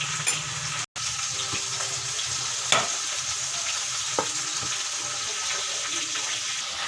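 Potatoes and pointed gourd frying gently over low heat in a pan: a steady, close sizzle with occasional stirring clicks and scrapes, a brief dropout near the start, and no voices.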